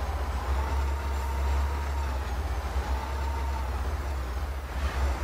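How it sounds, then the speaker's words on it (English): Old Kamaz truck engine in Euro Truck Simulator 2, a deep, steady droning rumble with a faint whining tone above it, continuous and close with no speech. "A lot of people complained about the noise this truck makes."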